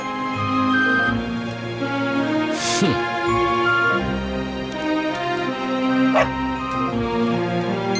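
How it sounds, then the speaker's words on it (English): A dog in the video game Dragon Quest XI gives repeated yips and whimpering barks under looping background music, with a sharp burst partway through and another a few seconds later. "No, not a dog! Anything but that!"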